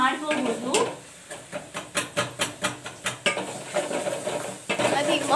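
Spices fry in a pan for pepper rasam with a crackling sizzle, broken by a rapid run of rhythmic metallic scrapes and taps as a spoon stirs against the pan.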